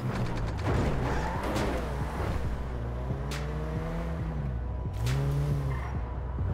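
A car skidding in a video game set in a favela, with tires squealing in several rising and falling sweeps over a constant engine drone, mid-distance and fairly loud.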